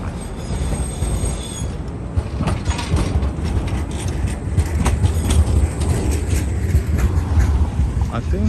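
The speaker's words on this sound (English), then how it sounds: "here's a new tram" A new tram passes through Riga's old town, its wheels rumbling and squealing on the rails in a continuous loud pass with faint voices in the background.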